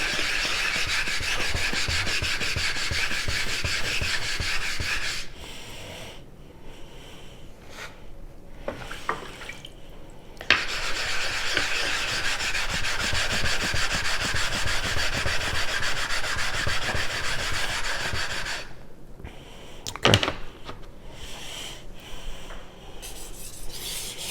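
A 210mm Yoshikazu Ikeda honyaki gyuto in White #2 steel is worked on a 1000-grit sharpening stone, giving long, steady abrasive rubbing strokes broken by a few brief pauses and small knocks, with no voices.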